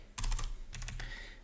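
Quick clattering keystrokes on a computer keyboard while entering a line of Python code, in two short bursts of close, crisp taps.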